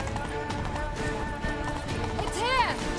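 Roach, the horse from the video game Witcher 3, galloping with steady rhythmic hoofbeats under a busy bed of game music and crowd noise, with someone speaking over it.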